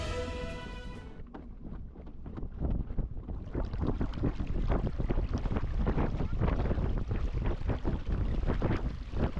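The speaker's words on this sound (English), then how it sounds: "This was our first sail of the trip, just a short one on an evening tide." The sailboat Tarka under way at sea on an evening tide off the North Norfolk coast, with rushing water and gusty wind buffeting close to the microphone in a steady, choppy wash.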